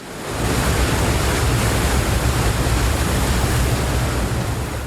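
Steady broadband roar of a waterfall, loud and unbroken for several seconds after a brief quiet start, with no voices.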